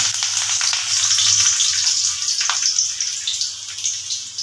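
Chopped onions sizzle steadily in hot mustard oil, a close, continuous crackling hiss with a faint low hum underneath and no voices.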